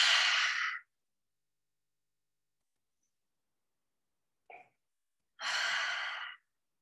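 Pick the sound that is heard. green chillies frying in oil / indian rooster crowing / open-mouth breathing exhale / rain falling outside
open-mouth breathing exhale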